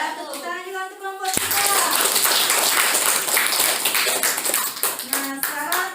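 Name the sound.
applause for a group of students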